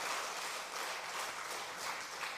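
A church congregation applauds during a Sunday worship service, a steady wash of many hands clapping at once, faint and distant, with no voices over it.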